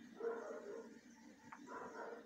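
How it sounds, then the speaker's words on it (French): Dogs bark and yip at a distance in short scattered bursts, faint against a steady background hum, with no voices alongside. "Et maintenant, t'as les chiens qui s'y mettent."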